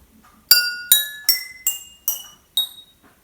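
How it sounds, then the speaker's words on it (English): Barbecue skewers strike glasses of different sizes in a kitchen, six separate bright ringing clinks in an even rhythm, each at a different pitch and fading quickly, clear and close with no talking. "I'm in the kitchen with some barbecue skewers and some different size glasses."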